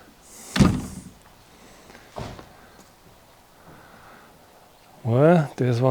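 Door of an apartment building thudding open and shut, two sharp knocks about a second and a half apart, with a voice talking at the end.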